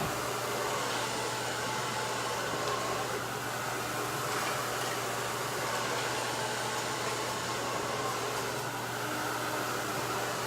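A Power Tool Salon Pro 5600 hair dryer blows with a constant, loud airy roar and a low motor hum, steady throughout with no speech.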